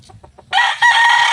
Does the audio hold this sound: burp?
no